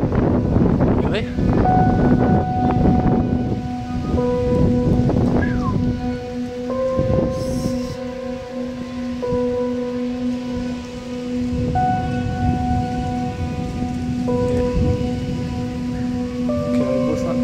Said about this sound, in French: Il a l'air loin, mais vraiment le tonnerre.